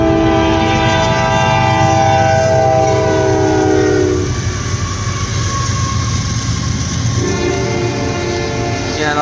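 A regular CSX freight train passes close by, its loud horn chord sounding for several seconds, cutting out, then returning near the end over a constant rolling rumble of wheels and cars.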